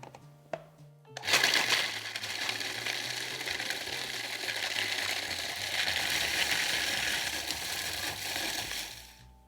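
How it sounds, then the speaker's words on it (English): A food processor grinds a wild mushroom rub with parsley and cayenne: a brief clatter, then a steady loud whirring and grinding that runs continuously for several seconds before stopping at the end. "I want to process this until it's nice and coarsely ground"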